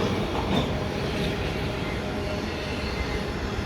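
CN mixed freight train rolling past at St John's Blvd, a dense continuous rumble and rattle of cars close by, steady throughout with no voices.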